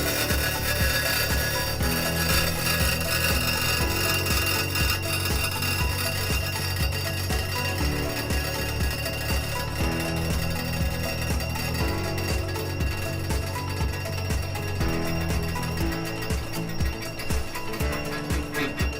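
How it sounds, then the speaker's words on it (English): A furnace induced draft motor with worn-out bearings grinds and rasps continuously at close range, a harsh, steady mechanical scraping with a rough droning undertone, heard alone throughout. "got problems with our induced draft motor here. Bearings in that are no good."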